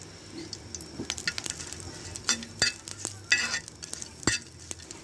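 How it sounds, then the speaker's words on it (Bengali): Chili peppers fry in a little oil in a pan, giving a soft crackling sizzle broken by irregular scraping and clicking strokes from stirring, fairly quiet and close. "আমরা এখন মরিচগুলোকে ভেজে নেব"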